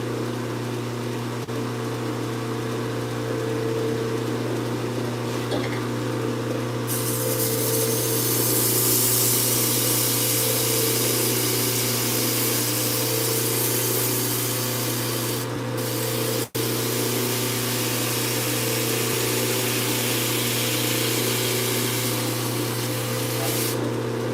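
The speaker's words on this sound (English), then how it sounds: "I'm going to start with a 220 grit belt on this, as slow as I could possibly go on my grinder" Slow belt grinder running a 220 grit belt while cutting an edge on a knife blade: a steady, continuous grinding hiss and motor hum that brightens when the steel meets the belt, close and alone with no talk.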